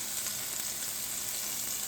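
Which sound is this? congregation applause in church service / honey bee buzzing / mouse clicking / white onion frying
white onion frying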